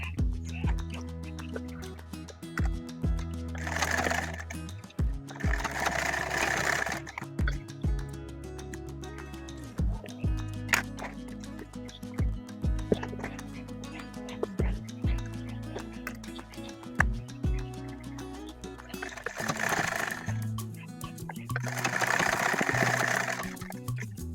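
A sewing machine stitches the boxed corners of a fabric tote bag, giving short bursts of rapid mechanical whirring separated by quiet pauses and handling clicks, close and moderately loud throughout.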